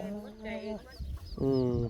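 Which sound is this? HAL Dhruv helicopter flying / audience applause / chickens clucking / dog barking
chickens clucking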